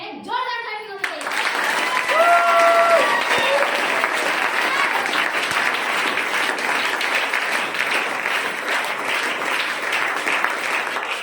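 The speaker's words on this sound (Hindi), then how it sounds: "जोरदार ताली होनी चाहिए।" A speaker's voice is heard briefly, then loud, dense audience applause erupts at a business meeting and carries on steadily, with occasional whoops and cheers cutting through the clapping.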